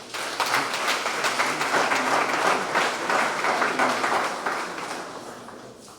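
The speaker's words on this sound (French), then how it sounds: "Sous vos applaudissements, s'il vous plaît." Sustained applause from a congregation at a church ceremony, a dense, steady wash of many hands clapping that fades slightly at the close.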